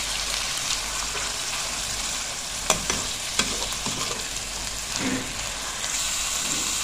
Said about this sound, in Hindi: इसको हमने अदरक लहसुन के साथ भून लेंगे